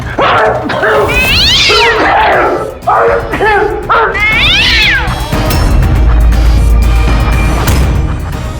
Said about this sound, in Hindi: उस रात तुम्हारे साथ यहाँ ये बिल्ली भी मौजूद थी